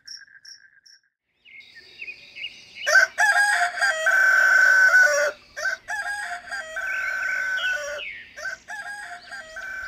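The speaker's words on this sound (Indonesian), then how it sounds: "mendengar adanya suara ayam yang berkokok secara bergantian" Several roosters crow one after another at dawn, long rising calls overlapping and trading off, with crickets chirping steadily underneath and a few clucks at the start.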